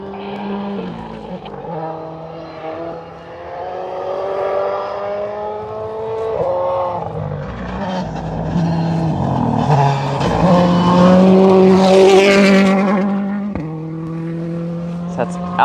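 A turbocharged rally car works through a gravel stage at a live rally in the Oregon mountains, its engine note rising and falling across shifts as it draws closer. An announcer talks over the engine throughout.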